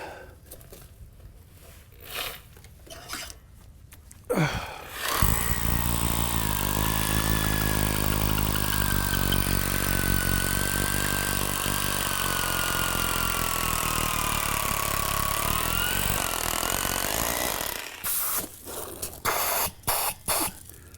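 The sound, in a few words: drill running and binding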